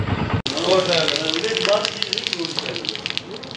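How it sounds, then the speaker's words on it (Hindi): A canal swollen by two or three days of steady rain rushes past, a loud, continuous gushing close by, with someone talking over it. "नहर का पानी भी बड़ा ज़्यादा हो गया"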